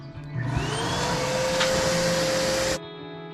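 The air blower of a RELXTIME 4-6 person inflatable hot tub whirs up into a loud, steady droning rush with a rising whine, then cuts off abruptly near the end.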